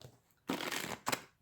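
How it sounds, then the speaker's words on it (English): Tarot cards being shuffled, heard as two short soft bursts of card noise close by in a quiet room. "Let's do some good shuffling."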